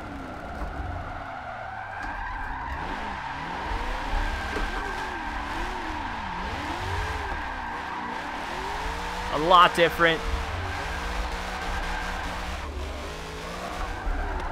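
Race car set up for drifting in a racing video game played on a Logitech G920 wheel, engine droning and revving with sliding tire squeals and a burst of skidding screeches, while someone talks over it.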